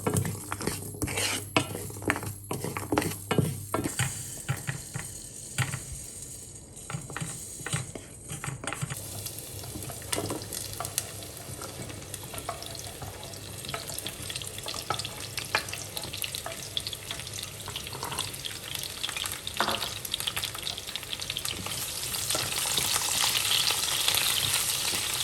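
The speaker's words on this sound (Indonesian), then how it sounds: "Jadi tujuannya untuk menggongseng ini supaya aromanya itu lebih keluar." Spices dry-roasting in a pan for coto Makassar, a steady close sizzle with scraping stir strokes and clinks of a utensil against the pan, running throughout with no talking.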